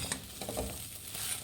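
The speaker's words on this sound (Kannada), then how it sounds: "ಫ್ರೆಂಡ್ಸ್ ನೋಡಿ, ಚೆನ್ನಾಗಿ ಹುರಿಬೇಕು." Okra fries in a little oil for bhindi sambar, a close, steady sizzle with occasional stirring scrapes, no talking.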